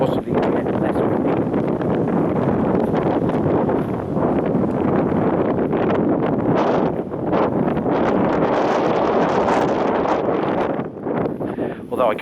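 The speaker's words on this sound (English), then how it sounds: "it's suddenly got very windy" Strong gusty wind buffeting the microphone outdoors at Woodhead castle near its wet moat, a continuous loud roar with rustling surges and no clear speech.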